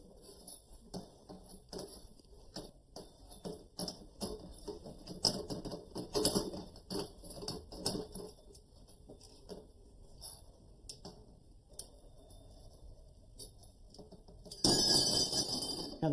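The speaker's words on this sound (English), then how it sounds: "that's where we're going to make the cut. Using a tubing cutter." Copper pipe being cut with a tubing cutter while converting a bathtub into a solar-powered fountain: soft repeated scraping and clicking as the tool is turned around the pipe, followed by a brief louder ringing rasp near the end.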